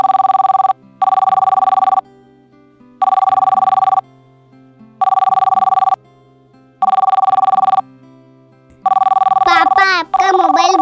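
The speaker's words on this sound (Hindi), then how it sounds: "पापा, आपका मोबाइल बज रहा है" A mobile phone rings loudly in a repeating pattern of about one-second bursts with short gaps, five cycles in all, while a voice starts speaking near the end.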